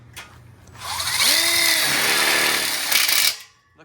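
A power drill drives screws into a steel outdoor kitchen bar kit, a single loud whirring run of about two seconds with pitch rising as the motor spins up, then stopping abruptly.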